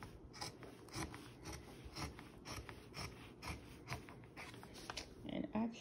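Scissors trim a folded fabric edge while a simple drawstring purse is sewn, with steady rasping, rubbing cuts repeating close up in a quiet room.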